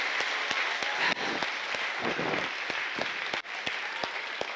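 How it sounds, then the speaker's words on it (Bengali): A church congregation at a Bengali sermon claps together in loud, steady applause that fills the room and runs without a break, with individual claps faintly audible in the wash. "জোরে একবার প্রভু যিশুর জন্য করতালি দে।"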